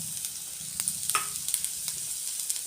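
Onion sautéing in oil in a pan for stuffed bell peppers gives a steady, close sizzle, broken by a few sharp clicks and taps of stirring.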